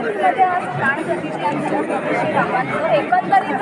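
A dense crowd of devotees celebrates outside the Ram temple in Shahapur, a loud, continuous babble of many overlapping voices close by.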